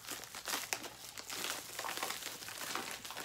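Plastic bag packaging around a Funko Pop crinkles and crackles in close, busy bursts as it is handled and opened, the rustling continuous and fairly quiet with no talk.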